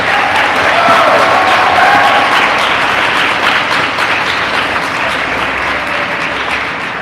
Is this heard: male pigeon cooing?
no